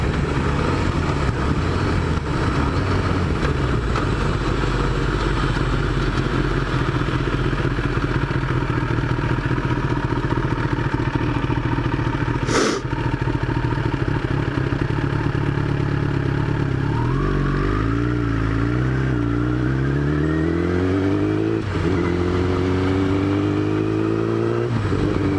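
A motorcycle engine runs steadily and loud throughout, then its pitch sweeps upward through several revs in the final stretch, with one brief sharp clack partway through.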